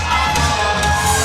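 Crowd at an APW wrestling show under the big top roaring and cheering steadily as a wrestler comes through the audience, a dense, sustained wash of voices throughout.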